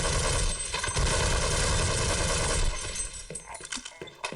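Gunfire in the video game Half-Life: rapid, loud automatic bursts rattling close by for a few seconds, thinning into scattered shots and clatter toward the end.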